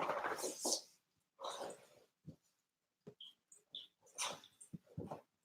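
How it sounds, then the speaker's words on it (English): A dog scratches at an expensive chair in the background, making intermittent bursts of scratchy scraping with short gaps between them, fairly faint and indoors. "That's my dog scratching in the background on a really expensive chair."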